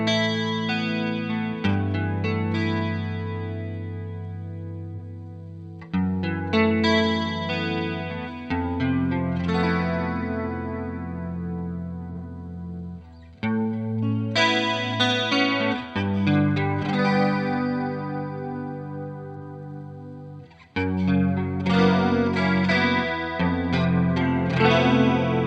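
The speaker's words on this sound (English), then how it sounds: "the DC2 is all about bright, shimmery chorus sounds" Electric guitar chords through a Boss DC-2w chorus pedal, stepping through its modes with bright, shimmery, gently wavering chorus, in several strummed passages separated by short pauses, with no talking.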